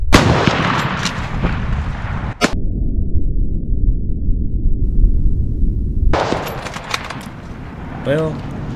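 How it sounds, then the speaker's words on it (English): Hunting rifle shots during a New Year's Day doe cull, loud and close: a blast opens, a second sharp crack lands near two and a half seconds, and another heavy burst follows later over steady wind and rumble. "Fire coming out of his gun."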